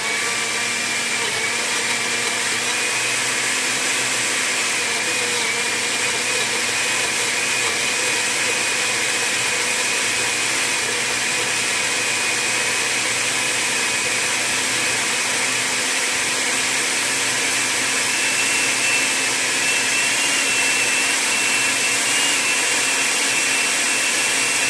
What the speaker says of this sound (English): use this as the water to blend my coconut